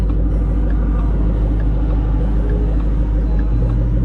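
A Shelby GT500 with a Corsa Extreme exhaust idling at a stoplight, a loud, steady deep rumble heard from inside the car, with no talking.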